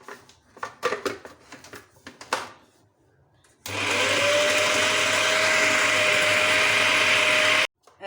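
Electric chopper whirring loudly and steadily as it minces raw beef keema for kababs, a sustained motor drone that starts abruptly after a few seconds of quiet kitchen handling noises and cuts off near the end.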